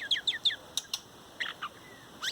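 A pet bird sings a quick series of bright, high chirps and short trills, clear and close, with brief pauses between phrases.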